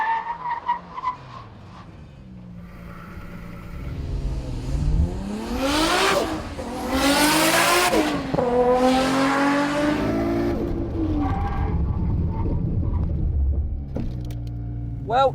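A Nissan R32 GT-R fitted with a budget brake kit makes two hard braking stops back to back: the engine revs up, then the tyres squeal loudly as the car sheds speed, with the engine note falling and rising again between stops.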